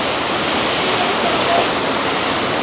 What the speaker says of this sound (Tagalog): Mantayuman Falls.